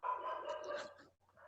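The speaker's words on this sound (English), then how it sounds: "Dogs now." Dogs bark during an online group hangout, a muffled, fairly faint run of barking and yelps that drops out briefly before starting again.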